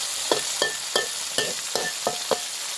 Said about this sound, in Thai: ชุดที่สามจับไป ทอดกรอบๆเลยด้วยรสดีแซ่บแน่นอนครับ